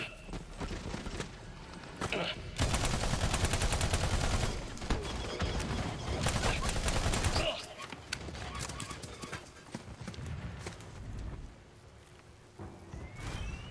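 Rapid assault rifle fire in the video game Battleborn, loud and continuous in dense bursts that crowd the whole range, mixed with other busy game effects and dropping briefly before resuming.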